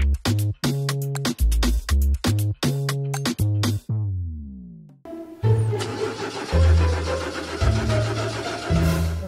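A car engine cranking in repeated rhythmic starter bursts that wind down and fail, then after a pause it cranks again and catches into a rough running rumble, close and loud.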